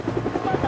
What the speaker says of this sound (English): Moments later, the search block deployed in a Colombian Army helicopter.